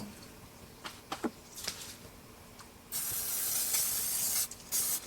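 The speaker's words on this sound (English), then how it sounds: "That spray oil is really good for this sort of stuff." Spray cooking oil is sent from a can in a long hissing burst, followed by a short second spray, after a few quiet clicks and taps of food being turned for grilling.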